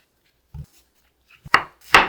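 A few crisp knife cuts through a pear on a cutting board, three or four separate chops close up, with quiet pauses between.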